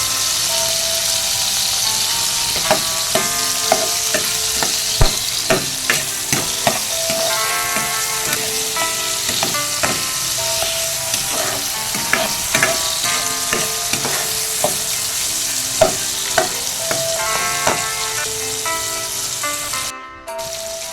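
Garlic and tomato sauté in a home-kitchen pan, a steady close sizzle punctuated by repeated scraping and clinking of a utensil stirring against the pan.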